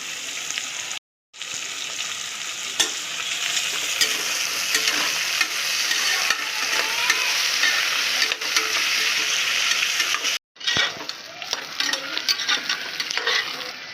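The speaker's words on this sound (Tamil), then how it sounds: "இப்போ பார்த்திங்கன்னா வெங்காயம் நல்லா வதங்கிடுச்சு" Onions and green chillies frying in a pan for chicken biryani, a steady close sizzle with stirring scrapes running throughout, broken by two brief cuts to silence.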